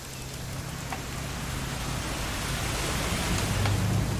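Steady rain falls in the video game What Remains of Edith Finch as a broad, even hiss that grows slightly louder, with a low rumble underneath and no voices.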